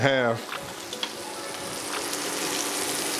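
Olive oil and butter sizzle in a pan with steak, a close, even frying hiss that carries on steadily after a brief voice at the start, with a couple of small ticks.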